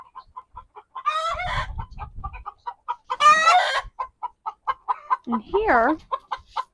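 Hens inside a backyard coop give a steady run of short, rhythmic clucks, broken by a couple of louder squawking bursts and a rising-and-falling call near the end, all close up, with a brief spoken phrase partway through.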